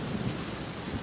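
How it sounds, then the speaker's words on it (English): Steady rain with low rumbling, like thunder, in a video game, a continuous wash of sound with no voices. "The rain won't slow me down."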